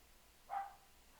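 A single short, faint bark rings out from a dog in the background, alone against a quiet room tone.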